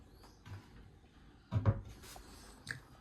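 A storage drawer in a campervan converted from an NGV gas-powered van slides out with one short, close wooden scrape and thump, followed by a lighter knock in an otherwise quiet interior.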